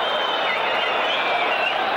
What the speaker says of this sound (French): Ils applaudissent.